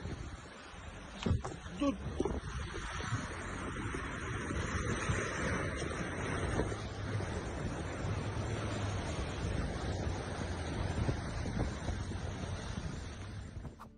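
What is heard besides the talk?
ocean waves on a beach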